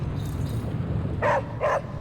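Two short dog barks ring out in quick succession in the video game Midnight Suns, close and clear over a steady low background hum.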